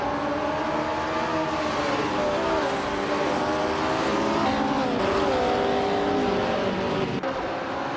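Race cars roaring off the line in a racing game, led by a vintage 1968 Porsche 909 Bergspider, engines rising and shifting through gears in a loud continuous blend with tire squeal, a commentator talking over it.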